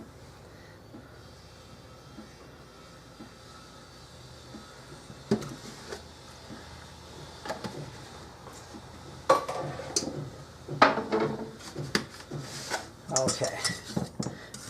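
Quiche mix stirred with whole milk in a bowl, starting quietly, then a burst of clinking and scraping utensil-on-bowl sounds in the second half; a voice briefly speaks.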